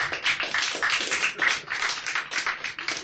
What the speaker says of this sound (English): Can we show, please, round of applause for our members of the panel?